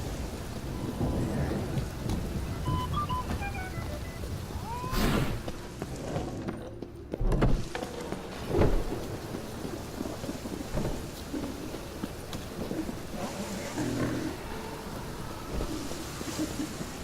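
Steady rain pours with rolling, rumbling thunder in the game Witcher 3, the downpour constant throughout and thunder swelling in several loud bursts.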